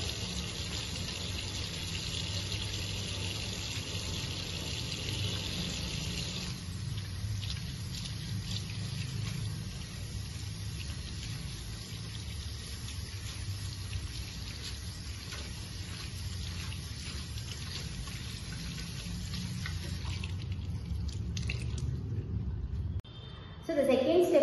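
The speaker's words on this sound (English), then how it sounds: "we should wash our hands with a mild soap or any kind of hand washer" Tap water runs steadily at a sink while hands are washed with mild soap during a clinical hygiene procedure, and the flow thins out near the end. The sound is faint and continuous.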